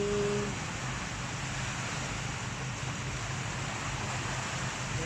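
Ocean waves wash steadily onto the shore in the early morning, a continuous broad surf hiss with some wind noise. There is a short tonal hum at the start, then an even roar for the rest.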